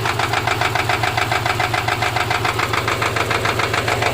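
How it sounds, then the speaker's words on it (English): A 2009 Subaru Forester engine with rod knock idles roughly up close, a steady loud rattling knock in rapid even rhythm over a shaking drone, with no talk. "Now it's idling. See how it's shaking pretty bad."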